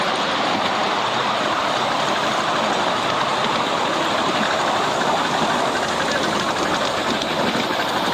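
A train at Galston Valley heritage railway rumbles continuously and loudly, a dense steady roar as if heard on board during a ride.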